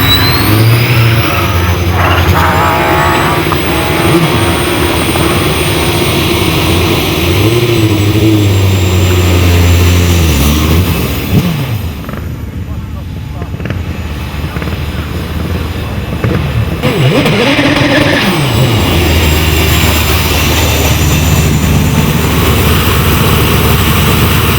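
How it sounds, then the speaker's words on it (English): Four-wheel drive Manic BT hill climb car launching hard off the start line at a speed hillclimb, its engine roaring loud and close, then fading briefly before surging again as it accelerates away. "So as Nick Mann comes to the line with the four-wheel drive Manic BT, prepare to witness one of the most electrifying getaways in the whole of hill climbing"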